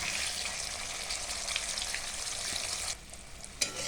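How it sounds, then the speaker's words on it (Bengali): An egg frying in a wok gives a steady, soft hiss and sizzle with faint stirring clicks, then briefly drops quieter near the end. "আমি ডিমটাকে দিয়ে দিয়েছি কড়ার মধ্যে"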